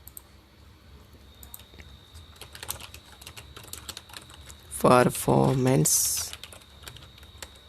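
Computer keyboard keys clack in quick irregular bursts, fairly close, while someone speaks briefly in the middle.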